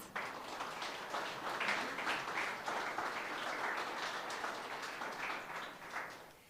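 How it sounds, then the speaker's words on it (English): Town hall audience applauding steadily, a dense continuous wash of many hands clapping at moderate distance for several seconds, slowly tapering at the end. "can you give a round of applause for yourselves, please?"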